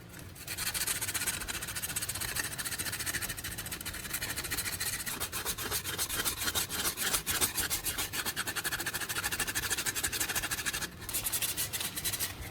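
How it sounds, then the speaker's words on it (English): Sandpaper rubs back and forth over the cut sharp edges of an old LED bulb cap, a steady close rasping scrape that runs almost without pause and drops out briefly near the end. "use sandpaper to smooth every sharp edge"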